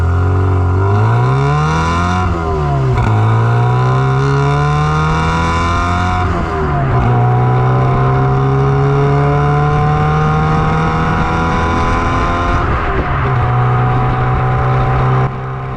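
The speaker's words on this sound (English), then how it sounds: "let's just run it through the gears. Check what the exhaust sounds like." A rare Mini John Cooper S Sport with a rough-sounding exhaust revs hard and loud through the gears, its engine note rising in sweeps, dropping at each shift, then climbing again in a steady close-up drone.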